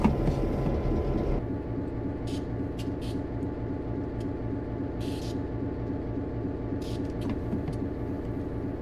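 A New Haven Railroad EMD GP9 diesel locomotive drones steadily in a train simulator video game, a low rumbling engine hum that continues evenly, with a brief louder burst at the start and faint clicks scattered throughout.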